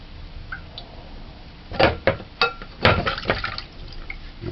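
Frankfurter sausages being rinsed under running water, with irregular splashing and dripping bursts close by, no voices.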